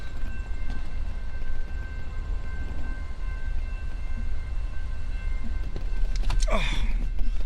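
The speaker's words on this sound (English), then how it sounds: "The train has started moving, so that's a good sign" A train rolling along railroad tracks in Detroit, a steady low rumble heard from nearby with a faint tonal whine, and a brief high screech near the end.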